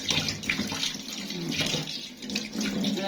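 Tap water running while fish are rinsed in a sink, a close steady splashing stream with uneven surges as the fish move under it.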